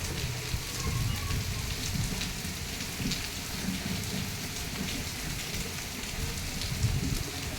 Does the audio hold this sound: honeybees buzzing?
no